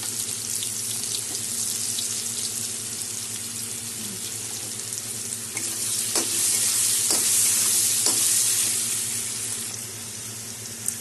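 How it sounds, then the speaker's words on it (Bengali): Cut potato frying in a pan on a home stove, a continuous close sizzle with a few sharp clinks of a utensil stirring midway, and no talking. "আলুটা ভেজে নেব।"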